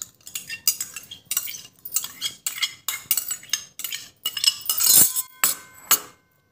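A spoon stirs salt into a mixture in a metal or glass bowl, producing rapid rhythmic clinks and scrapes in close, regular bursts that continue steadily before stopping abruptly, with no talking.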